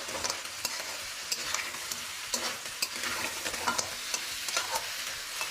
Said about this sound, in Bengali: জাস্ট এইভাবে এটাকে ভালো করে মেশাতে থাকুন